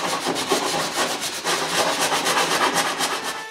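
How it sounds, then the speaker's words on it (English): A rasp shaping cedar wood for a patio table, harsh rapid scraping strokes that rub back and forth in a steady rhythm, loud and close with no voices. "when it's not, I have to use the rasp again"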